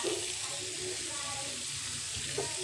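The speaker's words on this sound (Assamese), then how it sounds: "এইখিনি অকনমান মই ভাজি লম" Cumin and salt fry in a pan for a paneer gravy, giving a steady, low sizzle that runs through the whole stretch with faint stirring scrapes and no talk.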